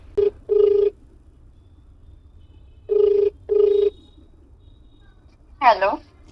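Telephone ringback tone from an outgoing phone call, two pairs of short rings separated by silence, followed by a brief voice at the end.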